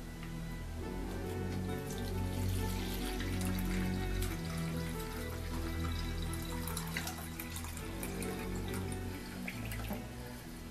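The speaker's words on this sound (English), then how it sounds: "So what I'm going to do is pour off the vinegar." Vinegar is poured off auger drill bits that have been soaking in it, a soft, continuous trickle and splash of liquid heard fairly quietly and close, without any voices.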